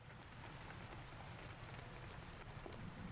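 Rain falls steadily in the potion-shop video game Shelve the Potions, a soft, even patter of rain ambience that continues throughout at low volume.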